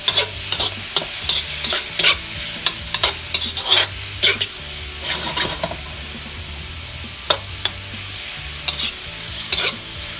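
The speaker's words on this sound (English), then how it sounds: "And then you toss your shrimp. And then it does not take very long to get this cooked." Shrimp sizzle in a hot pan under a continuous hiss. Sharp clicks and scrapes from tossing and stirring come at irregular intervals, close and fairly loud, with no voices.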